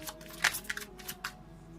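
Tarot cards shuffled up close in a quiet room, with soft papery riffles and a few sharper snaps scattered through the short stretch.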